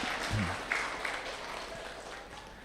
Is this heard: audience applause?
yes